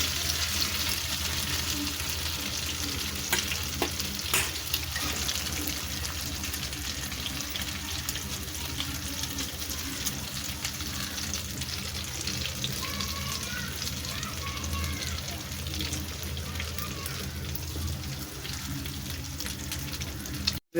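Egg-based food fries in a home kitchen pan, a constant close sizzling hiss lasting throughout with faint scrapes and clicks, no voices over it.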